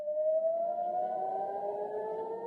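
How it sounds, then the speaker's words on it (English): Air raid sirens wail in Jerusalem, a steady sustained tone slowly rising and falling, heard alone and fairly distant. "Sirens were sounding again in Jerusalem."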